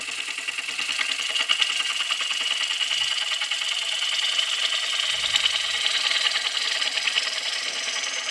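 A blunt-angled lathe gouge rides the bevel across the bottom of a green wooden bowl blank cut from a tree, giving a steady, close scraping hiss over the motor's constant whir for the whole stretch, with no voices.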